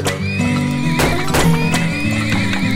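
Horses whinny repeatedly in the oil-drilling video game Turmoil, loud, close neighs rising over a steady game music bed with hoof clip-clop underneath.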